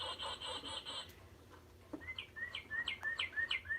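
A short harmonic chirp series, then a run of clear, repeated downslurred whistles from a northern cardinal song played by a bird clock, fairly close and alone.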